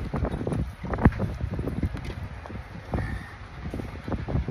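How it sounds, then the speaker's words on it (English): Gusty wind buffets the microphone with a constant low, rumbling roar and irregular thumps. "Is it windy enough? Is it windy or something?"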